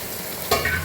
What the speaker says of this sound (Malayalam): അടുത്തത് ക്യാരറ്റ് മിക്സ് ചെയ്യുന്നുണ്ട്.